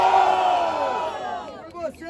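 A rap battle crowd roars with cheering and shouting, a dense burst of voices that gradually eases off over about two seconds.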